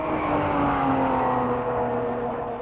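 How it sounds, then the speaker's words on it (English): Ferrari race car at the 1953 Mille Miglia, a loud engine note passing close by, with a steady sustained roar that dips slightly as it pulls away. "And here comes the leading Ferrari, Giannino Mazzotto, now in second place."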